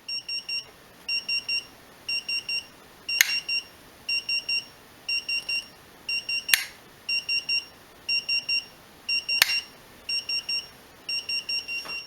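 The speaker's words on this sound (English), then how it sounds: "Now 4 more alarms are simulated," An AL 8000 alarm annunciator sounds simulated alarms: repeated pairs of high electronic beeps in a steady rhythmic pattern, punctuated by three sharp clicks, moderately loud and alone.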